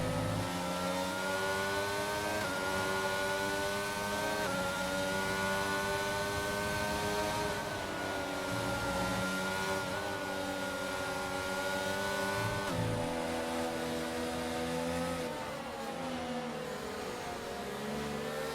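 Continuous high-pitched engine whine from Formula 1 racing cars in a video game at Miami, pitch rising and shifting as gears change, loud and steady throughout with no voices.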